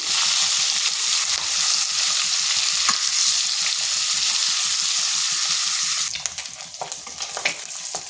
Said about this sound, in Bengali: ডিমগুলোকে একটু ভেজে নিচ্ছি।